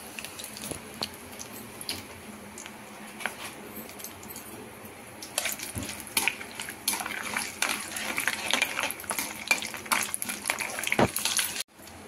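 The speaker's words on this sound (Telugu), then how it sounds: "ఈ పప్పులు ఫ్రై అవుతున్నప్పుడు దీంట్లో ఒక 2 ఎండుమిరపకాయలు వేసి ఫ్రై చేసేసుకోండి." Urad dal, chana dal and dried red chillies fry in a pan for curd rice, with quiet crackling and metallic stirring clinks that grow busier and louder in the second half.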